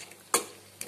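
Chicken pepper masala stirred in a pan gives two quick, quiet scrapes of a spoon against metal, separated by a short pause over a faint low background, with no talk.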